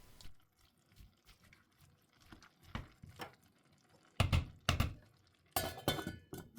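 A lid is set on a pot of simmering homemade beef broth in a kitchen, with a few scattered metallic clinks and clatters, two louder knocks in the middle and a rattling clink near the end, close by and otherwise quiet.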